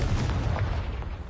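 Confringo, an explosive spell in Hogwarts Legacy: a fiery blast heard as a deep, rumbling boom that fills the whole short moment and then slowly eases off, with no speech over it.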